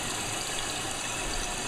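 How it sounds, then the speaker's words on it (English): Toilet tank refilling after a flush, a steady broadband hiss and rush of water running evenly throughout, fairly loud and close with no talk. "I'm going to let this refill"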